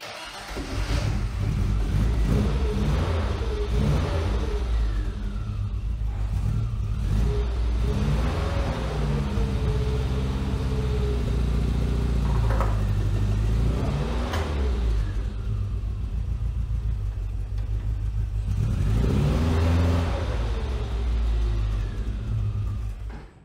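A Jurassic Park-themed Mk3 Scamp kit car's engine revs up and down in several rising surges as it pulls away, a close, rumbling mid-pitched motor throughout.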